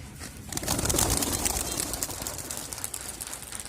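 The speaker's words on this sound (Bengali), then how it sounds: "কবুতরগুলো ছেড়ে দিতেছি" Ten pigeons being released outdoors, with a burst of wing flapping and soft cooing that swells near the start and then settles into a steady, busy flutter of birds.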